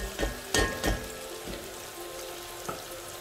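Tomatoes hit a hot pot for jollof rice, giving a few sharp splashy crackles at first, then a low, faint sizzle that carries on steadily with a couple of small pops.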